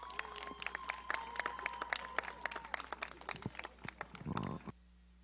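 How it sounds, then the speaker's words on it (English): A small gathering at a girls tennis team end-of-season picnic outdoors gives a round of applause, sparse, distinct claps close by that thin out and stop near the end. "Let's give them a nice round of applause."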